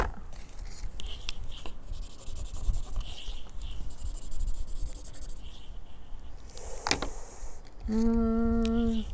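Quick coloring on paper, a continuous close scratchy rubbing of the drawing tool with brief pauses and a short tonal beep near the end, no talking.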